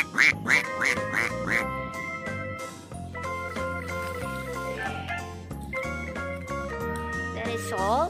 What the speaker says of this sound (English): Wow, it's a duck.